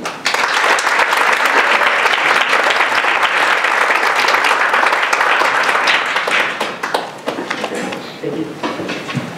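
Audience applause welcoming a speaker to a university lecture: sustained, dense clapping from a sizable crowd, steady and loud for about seven seconds before thinning out toward the end.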